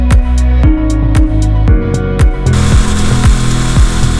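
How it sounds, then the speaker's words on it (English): A power drill countersinks bolt holes in wood for a van roof rack, loud close bursts of whirring that rise and fall in short repeated spurts, running steadily at the end. "We're just countersinking the wood now"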